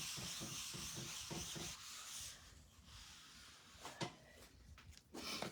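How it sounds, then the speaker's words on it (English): A paper towel rubs and wipes wet transfer paste off a surface in rhythmic, scrubbing strokes, close and fairly quiet, with a few small knocks toward the end. "I'm just gonna take up as much of that paste as I can with the paper towel."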